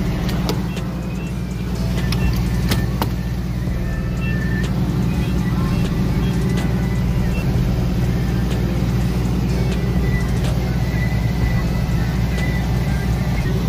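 A car engine runs steadily with a deep, continuous low rumble throughout, sounding like a vehicle driving along after starting up, loud and close, with brief clicks and faint talking mixed in.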